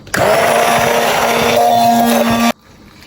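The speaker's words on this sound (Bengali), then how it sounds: "এখন হ্যান্ড ব্লেন্ডার দিয়ে আমি এখন এটাকে একটু ব্লেন্ডার করে নিই" A hand blender whirs loudly and steadily for about two and a half seconds, blending milk kirsha mixture smooth, then cuts off abruptly, leaving near silence.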